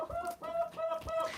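Chicken hens cluck in a short, quiet burst, a few soft repeated clucks coming close together in a barn setting where corn is being fed.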